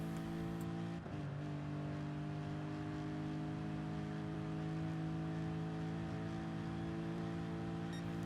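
Race car in Gran Turismo Sport at Goodwood Motor Circuit held at full throttle, a steady sustained engine drone with strong harmonics that rises slightly after a brief dip near the start, alone with no talk.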